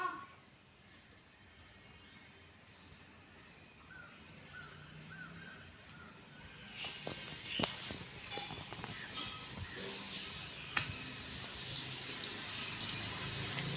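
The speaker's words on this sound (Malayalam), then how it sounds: "ഇനി നമുക്ക് വെള്ളം നിറച്ച് കൊടുക്കണം." Tap water runs steadily into a drained and freshly cleaned fish pond outdoors, a continuous hiss that grows slightly louder and brighter over time, with a few crows cawing nearby and scattered small knocks.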